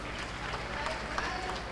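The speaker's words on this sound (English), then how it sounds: "Give them a huge round of applause." Audience applause at an award ceremony for a winning engineering college team, a steady wash of clapping that stays fairly quiet with a low background hum throughout.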